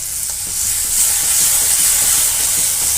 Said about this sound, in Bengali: এবার মশলাটাকে ভালো করে কষিয়ে নেব